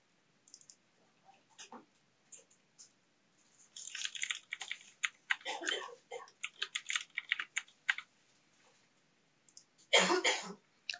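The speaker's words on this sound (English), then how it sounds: "Type the new password twice and click OK." Someone types on a computer keyboard while entering a new password. There are scattered short key taps at first, then denser bursts of clicking, and a louder cluster near the end, all close and clear with no talk.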